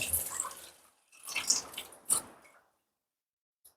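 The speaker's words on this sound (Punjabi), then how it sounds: "ਇਹਨਾਂ ਨੂੰ ਹੁਣ ਅਸੀਂ ਧੋ ਰਹਿਣਾ ਇੱਕ ਵਾਰੀ ਰਨਿੰਗ ਵਾਟਰ ਨਾਲ" Sprouts are rinsed under running water from a tap in a kitchen, giving splashing and trickling in three short bursts with pauses between, close and fairly quiet, no talk.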